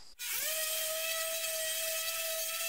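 A power sander spins up with a quick rising whine and then holds a steady, close motor tone while working cedar boards with 80-grit sandpaper.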